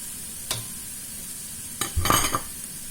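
Soybean sprouts and chicken sizzle softly in a wok while a utensil scrapes and stirs, a few sharp clinks standing out over the low, steady frying hiss.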